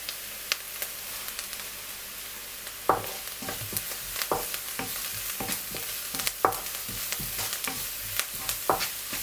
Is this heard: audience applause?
no